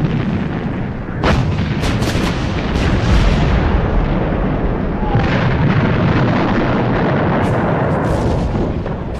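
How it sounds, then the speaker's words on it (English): A British artillery bombardment on the Somme in June 1916 is a loud, continuous rumble of heavy guns, with repeated booms and sharp blasts layered over a dense roar. "When the British guns opened up on the Somme on the 24th of June 1916"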